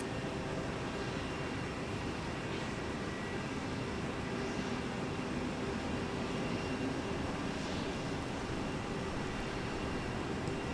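A jet takes off from runway 30 left at Minneapolis–St. Paul Airport, a steady broad engine roar that holds level and fairly loud for the whole stretch, with no voices over it.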